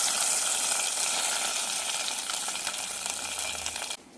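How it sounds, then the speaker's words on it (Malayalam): Mustard seeds, curry leaves and dried chillies sizzle and crackle steadily in hot coconut oil for a kannimanga dish, a close, continuous frying hiss that cuts off abruptly near the end. "ഇനി ഇതിലേക്കുള്ള വറവാണ്."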